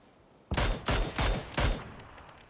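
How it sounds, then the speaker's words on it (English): Four loud, sharp gunshot bursts from a PUBG match, spaced evenly over about a second and a half, each cracking sharply and then trailing off into a brief echo, with no talk over them. "Great shot onto Hoba"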